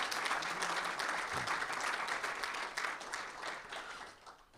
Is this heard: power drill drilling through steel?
no